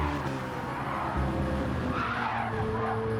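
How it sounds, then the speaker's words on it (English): Race car tires squeal and skid sideways through a corner in a racing video game, a sustained screech over a droning engine note with a second car close behind. "Ollie getting that corner slightly askew. Putting Unicorn right into the back of him. These two cars looking very squirrely"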